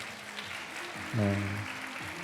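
Audience applause at a global citizenship forum event, a steady wash of clapping under a short spoken word from a host.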